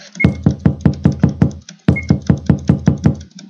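Persistent door knocking in a horror apartment hide-and-seek game: two loud bursts of about six or seven rapid, even raps each, separated by a short pause.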